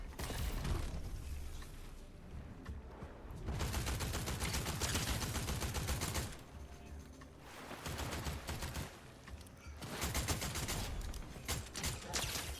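Bursts of video game gunfire, rapid rattling shots in loud volleys separated by brief quieter gaps, with no talking.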